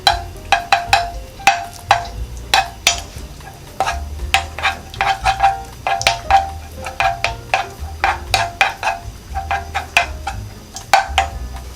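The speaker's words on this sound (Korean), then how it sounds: "마늘 1스푼 넣고 먼저 볶아주세요" Minced garlic, one spoonful, frying in about two spoonfuls of cooking oil in a pot for squid stew, heard as a steady crackling sizzle with frequent sharp pops and spoon scrapes, close and fairly loud, no talking.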